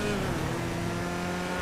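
Karin 190z, a sports classic car in GTA Online, drives with a steady engine drone and low tonal hum throughout, loud and alone with no talk.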